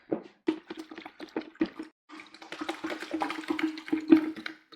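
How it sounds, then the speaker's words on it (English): Water splashed into a honey-coated container to rinse it for brewing mead, a burst of splashing and sloshing that starts in short spurts and then runs more steadily, close and fairly loud. "so a little bit of water."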